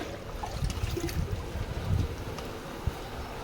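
Water poured into a cattle trough, a soft continuous splashing gurgle with low rumbling surges and a faint windy hiss.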